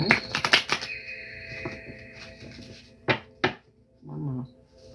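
A deck of tarot cards is shuffled by hand, a dense burst of riffling clatter at the start, then softer rustling and two sharp taps as the deck is squared, with a brief murmur at the end.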